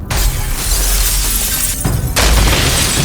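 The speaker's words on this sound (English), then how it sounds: "smashed through the hotel's bulletproof glass" Heavy metal smashes through thick bulletproof hotel glass with a loud, sustained shattering roar and a second sharp crash partway through, very close and harsh.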